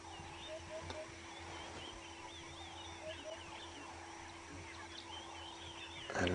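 A francolin calls at dawn on an African safari drive, its harsh repeated cackling notes carrying from some distance over a steady engine-like hum and bush ambience, with a brief louder noise at the end.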